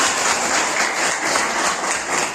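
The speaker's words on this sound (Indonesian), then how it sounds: "tepuk tangan" A classroom of students applauds a classmate after a math presentation, a dense, steady burst of clapping that continues evenly throughout.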